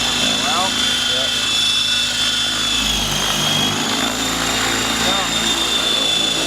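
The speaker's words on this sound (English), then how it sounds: "flipping the helicopter over and flying inverted" A helicopter flips over and flies inverted, its rotor and engine whine droning loudly and continuously nearby while people talk over it.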